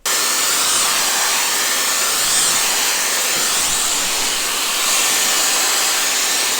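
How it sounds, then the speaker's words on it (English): A Dyson hair dryer on its second heat setting blows a loud, steady rush of air close by, an unbroken whoosh with no talking. "I am just on the second heat setting and this hairdryer is hot"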